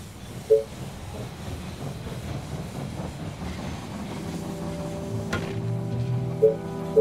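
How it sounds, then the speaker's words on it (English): Steam train pulling into a station in the They Are Billions video game, a low rumbling hiss with brief chime tones and a rising tonal whistle-like hum toward the end, steady and moderately loud. "The train has arrived at the station."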